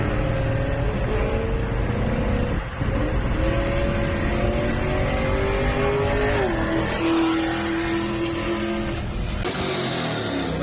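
Chevrolet SS sedan muscle car engine running loud and close, a continuous throaty rumble that climbs and shifts in pitch as the revs change, cutting off sharply near the end.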